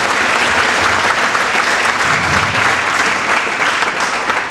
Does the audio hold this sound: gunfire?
no